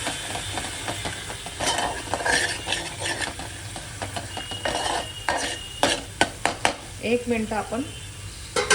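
Red chilli powder, coriander powder and kitchen king masala are stirred in a hot pan, a spoon scraping and tapping against the metal over a low sizzle while someone speaks.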